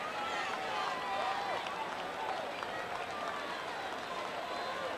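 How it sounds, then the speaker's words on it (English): Sparse clapping from about nine people after a quiet home run at a 1988 NLCS baseball game, faint and steady beneath a continuous stadium crowd murmur. "There are about 9 people clapping"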